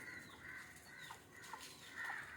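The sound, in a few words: native country chickens clucking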